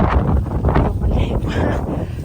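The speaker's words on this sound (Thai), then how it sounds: "ลมแรงมากลมแรงมาก" Strong wind blowing outdoors in a vegetable garden, a loud continuous roar and buffeting against the microphone with some rustling, no talk.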